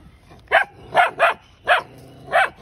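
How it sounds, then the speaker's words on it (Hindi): A black bull mastiff barks five times at close range in short, loud, evenly spaced bursts over a quiet background. "इसकी ब्लैक वाला क्यों इतना भौंक रहा है?"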